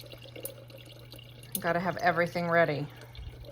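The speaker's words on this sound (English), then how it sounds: "I'm also filling up my cup of water" Tap water runs steadily into a drinking cup at home, a soft continuous flow under a low mains hum, while someone speaks briefly over it.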